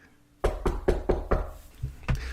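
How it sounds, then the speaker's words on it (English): Knocking on a door in a comedy skit: a quick run of five firm, evenly spaced raps, then a pause and one or two more knocks, loud and close with no voices. "Oh, I wonder who it could be knocking."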